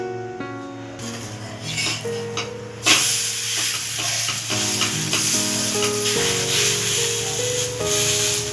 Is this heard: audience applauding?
no